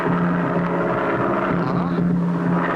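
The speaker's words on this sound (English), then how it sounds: "I hear it. It's a plane." A steady, droning engine hum from a small bush pilot's propeller plane fills the whole stretch at an even, loud level.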